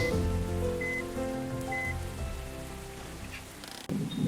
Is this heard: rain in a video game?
yes